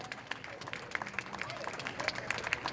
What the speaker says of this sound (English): Let's give the Masameen Center another round of applause.